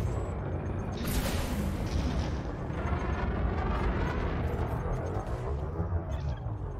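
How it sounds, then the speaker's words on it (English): Deep rumbling booms from plasma accelerator guns firing in a sci-fi video game, a dense continuous barrage of low thumps under a steady roar, with no speech over it. "I can hear the plasma accelerators make a kind of thump sound like, actually like Megatron's cannon from the original Transformers cartoon"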